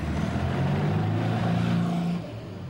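A Porsche Spyder race car at a Targa Tasmania event, its engine holding a loud, steady drone before dropping off slightly at the end, with no talking.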